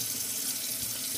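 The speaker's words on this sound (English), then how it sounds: "I like to get water in there and then kind of just swirl it around like that" Tap water runs steadily into a snapback hat held under a faucet, a close, continuous splashing rush over the full second with no voices.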